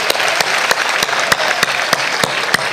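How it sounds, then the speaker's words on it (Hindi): Audience applause at the Nimar Utsav festival in Maheshwar. Dense, loud crowd clapping is punctuated by sharp, evenly spaced rhythmic claps, as if keeping a beat. "फिर से पढ़िए, बोल रहे हैं तो एक बार तालियां बजा दीजिए।"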